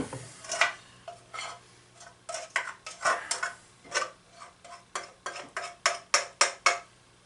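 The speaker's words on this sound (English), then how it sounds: "And you get to stir, stir, stir, stir, stir, stir, stir, stir." A spoon scrapes and knocks around a pot of chili mac in a quick, steady series of about fifteen separate stirring strokes. The strokes are close and fairly loud and come in an irregular rhythm, with no voices.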